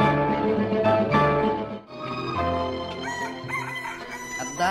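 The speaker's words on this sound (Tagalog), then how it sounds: "Adda ka manan dito'y ayan ti manok mo, Manong Louie." A rooster crows, its harmonic call rising and holding over several seconds, fairly loud and near, with no voices.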